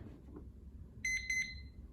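A short run of high electronic beeps from a classroom visual timer, three quick pulses, over a faint low background hum.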